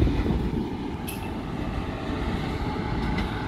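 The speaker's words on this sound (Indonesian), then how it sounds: "Langsung berpapasan dengan Lodaya dari Bandung menuju Solo." Lodaya passenger train from Bandung to Solo passing at Lempuyangan station, a loud sustained rumble of wheels and carriages rolling by close, with a couple of brief high metallic squeals.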